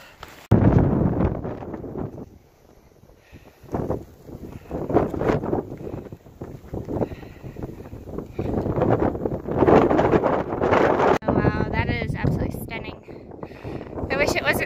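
Loud, steady wind buffets the microphone in heavy gusts on a mountain along a hiking trail, with a person talking over the roar throughout.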